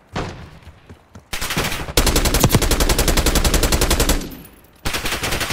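Automatic gunfire in Call of Duty Black Ops 6 multiplayer team deathmatch comes as loud, rapid bursts of shots. Long stretches of continuous fire are broken by short pauses, with no talk.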